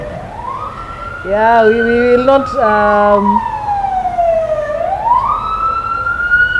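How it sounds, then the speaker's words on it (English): A siren wails with a sweeping, falling-then-rising pitch as it passes nearby, with someone briefly speaking over it. "let me just let that siren pass."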